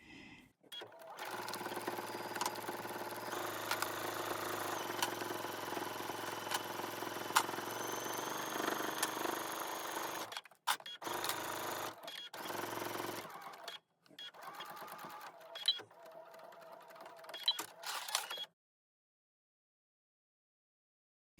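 A sewing machine runs a steady half-inch seam along the edge of a quilted hoodie, a continuous motor whir for about ten seconds, then shorter bursts of stitching with pauses between them.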